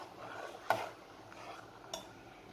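A spoon scrapes and clinks against the metal side of a pressure cooker while stirring milk payasam, two sharp isolated clinks with soft stirring in between, close and fairly quiet.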